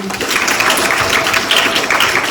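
An audience at a talk breaks into loud, dense applause to welcome the author Lim Young-rae onto the stage, a continuous wash of clapping with no pauses.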